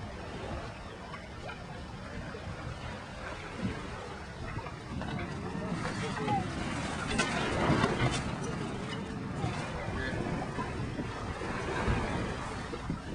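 Steady rush of water and wind as a Farrier F-41 sailing catamaran moves through waves at about 8 knots, a continuous broadband wash with gusty wind noise on the microphone.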